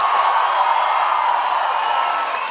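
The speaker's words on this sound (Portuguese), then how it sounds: "Uma salva de palmas para Rico da Lação." At Audio Club's LAB Fantasma 7th anniversary party, the crowd gives Rico da Lação a continuous round of applause mixed with cheering, loud and even from start to finish with a slight fade at the end.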